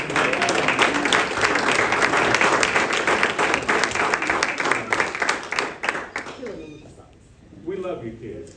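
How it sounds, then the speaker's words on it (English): Loud, dense applause from a Cub Scout pack's Blue & Gold Banquet crowd in Charlotte fills the room steadily, then thins and tapers off near the end as a few voices emerge. "give yourself an applause"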